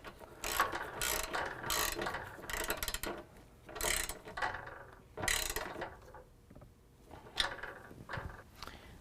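A hand ratchet snugging up the mounting nuts of an Iron Cross HD running step on a 2018 Ford F-250, repeated bursts of rapid clicking strokes with short pauses, close and fairly quiet.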